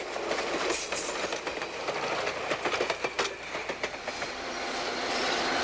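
An Algoma Central Railway extra train pulls out of a siding, rumbling along the track with rhythmic clickety-clack of wheels over rail joints, fairly distant and steady, with no voices.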